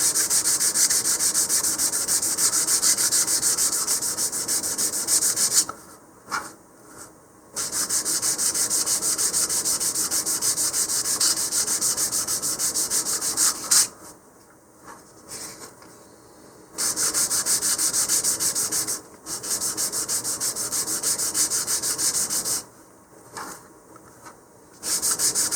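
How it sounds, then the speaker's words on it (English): Steady close scratchy rubbing of black wet/dry sandpaper on a model rocket part, long continuous strokes that stop briefly a few times before resuming. "this is black because it's wet dry sandpaper instead of just dry sandpaper"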